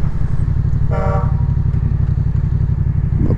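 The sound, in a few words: car horn honking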